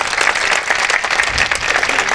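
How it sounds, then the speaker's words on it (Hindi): Audience applause at a Hindi poetry recital, a dense, steady wash of clapping from a full hall lasting throughout, loud and continuous with no speech over it. "दोनों हाथ ऊपर उठा के आप तालियां बजा सकते हैं"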